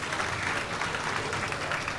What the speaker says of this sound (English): Round of applause for all the competitors today.